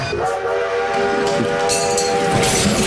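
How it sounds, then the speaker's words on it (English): A train horn sounds steadily with several sustained tones over loud rumbling rail noise, continuous and close throughout. "The whistles go woo woo."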